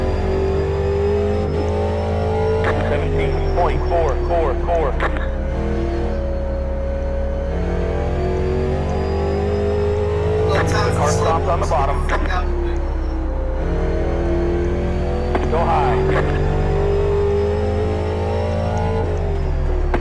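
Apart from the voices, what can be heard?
race car engines in an iRacing rookie race, video game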